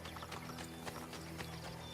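Horse hooves clip-clopping in Assassin's Creed: Brotherhood, a steady rhythmic beat of galloping steps over a constant low game background hum, moderately near.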